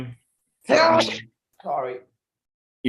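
A single loud sneeze bursts out up close during a casual conversation between gamers, followed by a short apology spoken in the clip.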